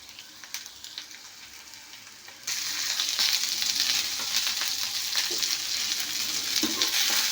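Bitter gourd pieces and curry leaves drop into hot oil in a pan, a quiet sizzle jumping suddenly into a loud, steady close frying hiss with faint stirring crackles.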